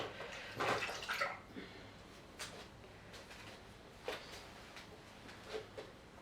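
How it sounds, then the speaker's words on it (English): A paintbrush with acrylic paint is swished and rinsed in water, giving soft splashy sloshes in a few bursts over a quiet background. "I wash my brush because sometimes the paint dries in the brush."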